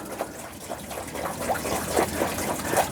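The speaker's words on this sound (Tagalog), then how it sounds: "Dali, lagyan natin ng tubig." Water poured into a dog's container outdoors, a steady close trickling and splashing that runs continuously with slight surges, with no talking.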